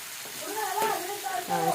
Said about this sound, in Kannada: ಹಂಗೆ ಫ್ರೈ ಮಾಡಿಕೊಂಡು ಡಬ್ಬು ಮೆಣಸಿನ್ಕಾಯಿ ಶೇಂಗಾ ಕುಟ್ಟ ಹಾಕ್ಬಿಡಮ್ರಿ.